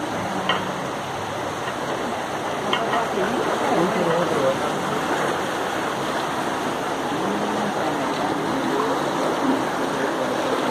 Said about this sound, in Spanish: es una tubería donde esa agua especial sale del río Guarapas